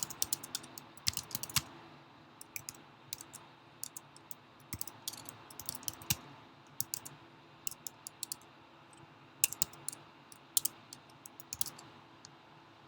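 Command being typed on a computer keyboard: a steady run of close, crisp key clicks in irregular bursts with brief pauses, heard alone with no talking.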